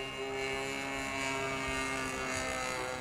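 A model airplane drones overhead in flight, its small engine giving a steady, sustained buzz with a constant pitch throughout, with no talk over it.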